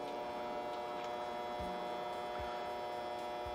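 A faulty transfer switch in a Fleetwood Discovery 40G RV gives off a steady electrical mains hum. It is faint and constant, with no talking over it.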